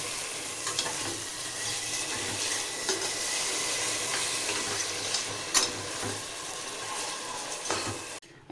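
Rice and dal sizzle steadily with masala in a hot pan for khichdi, a continuous broadband fry with scattered stirring scrapes and a few sharper clicks, close and fairly loud, with no talking.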